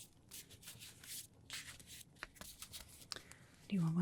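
Oracle deck cards being shuffled in a soft-spoken ASMR aura reading, repeated papery rubbing and riffling strokes at close range, fairly quiet, ending with a short low tone.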